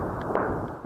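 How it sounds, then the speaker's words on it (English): Distant gunfire from street fighting in Sudan rumbles as a dull, continuous low roar with a muffled crack partway through. "the relentless sound of gunfire"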